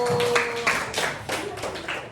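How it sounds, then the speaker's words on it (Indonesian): Classroom of fifth-grade pupils clapping for a presenting group, a short scattered burst of hand claps with uneven rhythm, fairly close and moderately loud, fading and picking up again across a couple of seconds. "tepuk tangan dong untuk kelompok 1"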